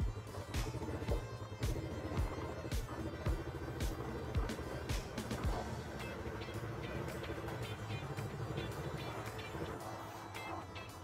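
An ATV being driven up onto a U-Haul car hauler trailer, its engine running steadily throughout with repeated sharp clanks and knocks as it climbs the ramp, no talking.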